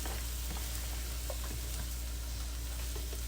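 Garlic and onions sizzle and fry in an oiled pan for Filipino adobo chicken, a dense, steady crackle close by with scattered pops and light stirring, no voices.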